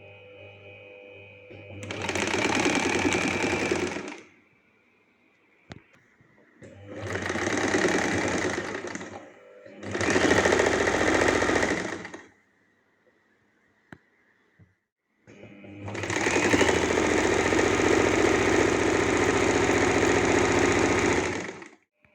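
An electric sewing machine stitches cotton pants in four bursts of rapid, close mechanical whirring, separated by quiet pauses, the last burst the longest.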